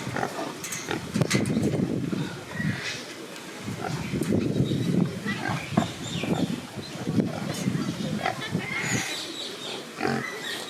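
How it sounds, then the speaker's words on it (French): A large pig on a farm in Koh Samui grunts and snuffles up close, trying to open something, amid rustling and outdoor ambience, with some people talking nearby. "Il est malin ce cochon."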